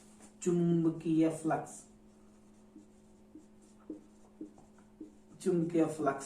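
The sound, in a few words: writing a physics equation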